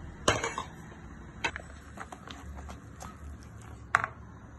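Metal clanks and knocks as a banana cake pan is set into a cooking pot for stovetop baking, sharp hits followed by a few lighter scrapes and taps, close by.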